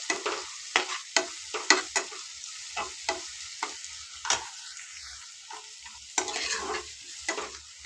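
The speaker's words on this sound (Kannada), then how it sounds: "ನೀಟಾಗಿ ಇದು ಫ್ರೈ ಆಗಬೇಕು" A North Karnataka village-style vegetable palya with ground green chili fries in a pan, with a quiet sizzle under repeated close spatula scrapes and knocks in an uneven rhythm, and no talk.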